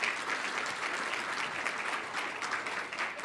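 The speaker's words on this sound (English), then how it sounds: "That deserves a big round of applause." Steady applause from an audience at a legislative event following a speech, dense and continuous clapping with no talk over it.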